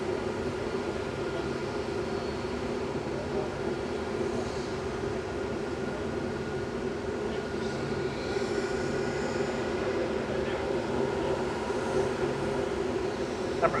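A Lufthansa Airbus A319 arrives from Frankfurt at Manchester Airport, its engines making a steady, rumbling drone well in the background with a constant level throughout.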